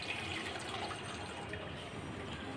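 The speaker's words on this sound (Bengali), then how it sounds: "ভালোভাবে ডালটা ধুয়ে নিব" Masoor lentils being rinsed in water in a kitchen, a steady close swishing and running-water wash without pause.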